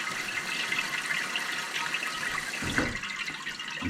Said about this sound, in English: Now I'm letting this rinse here really good.